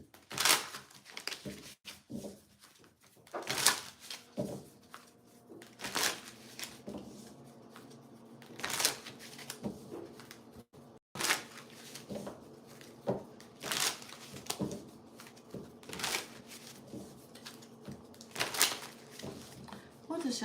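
Tarot cards are shuffled in several quick riffling bursts, close and crisp, with soft talk and handling noises between them.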